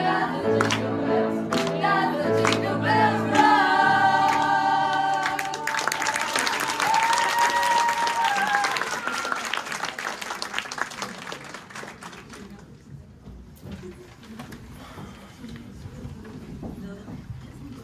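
At a high school graduates' Christmas show, a song ends and the audience breaks into applause, a dense, sustained round of clapping that swells and then slowly thins out, with the crowd's voices mixed in.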